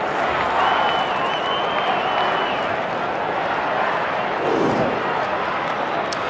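A large stadium crowd at an AFL match between Adelaide and Sydney keeps up a steady, loud roar of booing and noise for the whole stretch, swelling slightly near the end, with a commentator talking over it.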